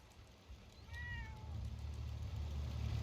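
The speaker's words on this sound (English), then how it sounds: "And of course, we have the cat." A cat meows once in the video game Fallout 4, a short rising-falling call near the listener over a steady low in-game engine-like rumble.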